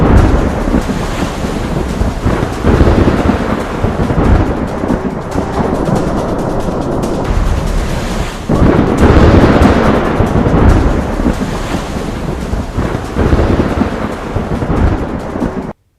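Heavy rain from Cyclone Yaas in Ranchi, Jharkhand, a loud, dense, continuous roar of downpour with gusting wind and rumbling thunder swelling through it, close and overwhelming, with no voices.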